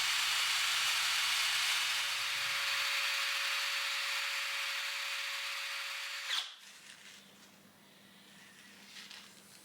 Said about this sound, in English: I stuck the piston into my battery drill to give it a polish with Brasso